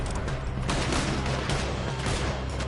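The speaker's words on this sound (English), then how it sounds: "Why are they all shooting at me?" Red Dead shootout with steady overlapping rifle and pistol fire, a loud dense fusillade of close shots crackling without a break for the whole short stretch.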